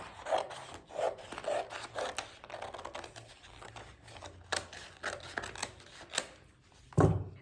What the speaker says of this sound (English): I'm gonna cut a bunch of this out